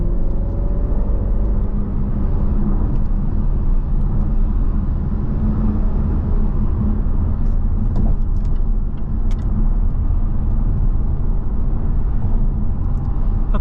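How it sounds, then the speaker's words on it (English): A 2014 Jaguar XKR accelerating to freeway speed, heard from inside as a steady loud low road and engine rumble with tire whir, no speech. "We're going to go ahead and come over here in this other lane and get up to freeway speed."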